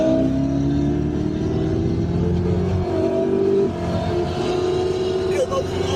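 Ford Mustangs accelerate at a car meet on a rideout, with engines droning and rising in pitch in a continuous roar. The engine noise is loud and close, and voices are faintly heard beneath it.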